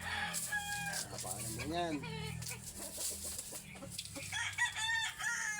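A gray hen clucks and cackles in a playpen with a new nest, close and clear with drawn-out rising calls and short clucks, while a person speaks briefly over it.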